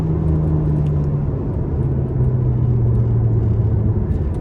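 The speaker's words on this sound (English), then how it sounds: "it's just nuts how this F1 transmission shifts" A 2003 Ferrari 360 Spyder with F1 transmission cruises along, its engine a steady low rumble and droning whir heard from inside the car, with a tone shifting slightly downward as it runs.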